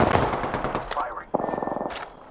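Video game gunfire, heard as rapid bursts of shots that come in two clusters, with a voice talking alongside them.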